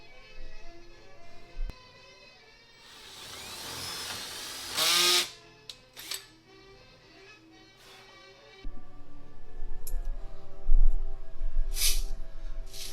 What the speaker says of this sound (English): So I'll have to pre-drill these holes just a little bit bigger and a little bit wider